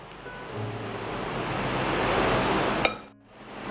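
Ice water stirred into pastel dough in a bowl, a continuous soft swishing and sloshing rush up close, ending in a single clink and a brief lull.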